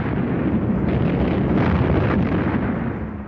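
Heavy World War I artillery shell explosion, a loud continuous rumbling crash with dense low roar, close and unbroken for a few seconds, with no voices.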